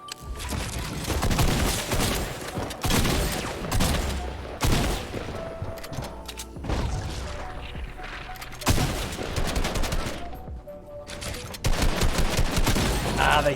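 Rapid gunfire from a shooting video game: loud, repeated volleys and bursts of shots, sometimes dense and overlapping, broken by brief pauses and carrying on throughout without speech.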